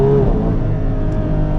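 Ferrari 812 Competizione V12 climbing toward its 9,500 RPM redline on a drive behind an F12 TDF, a loud, steady, dense engine roar with a brief rising tone at the start, no talk.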